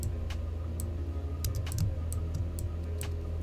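Computer keyboard keys pressed during an After Effects editing session, a handful of quick, light clicks at irregular intervals over a loud low hum.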